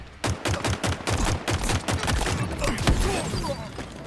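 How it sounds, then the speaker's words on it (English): Halo Infinite multiplayer weapons fire in a steady rapid stream of punchy shots, loud and close, continuing for several seconds with no talk over it. "Shooting him in the back."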